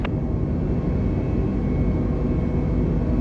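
Airliner engines roaring steadily at takeoff power during a run down the runway in Microsoft Flight Simulator, a loud, even jet rumble filling the clip without any speech.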